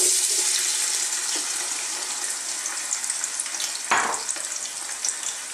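Chopped onions hitting hot oil for a bulgur and tomato dish, a loud steady sizzle with bright hiss throughout, one sharp clatter or stir partway through.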